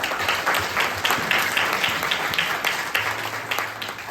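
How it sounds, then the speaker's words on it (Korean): Congregation applauding during a church youth winter retreat service, a dense burst of many hands clapping that swells and fades in waves, with brief voices mixed in. "우리 하나님께 영광의 박수를 올려드립니다"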